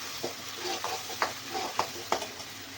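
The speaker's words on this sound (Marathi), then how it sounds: "मसाला चांगला थोडासा तळून घ्यायचा आहे आपल्याला जास्त तळायची गरज नाही आहे मसाल्याला" Spiced masala frying in oil for stuffed capsicum, a steady close sizzle with a few clear scraping strokes of a spoon stirring in the pan, alone without speech.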